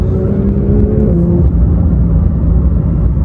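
A Porsche GT3 engine running loud and close, a dense low roar with a sustained tone that drops slightly partway through, steady throughout with no voices.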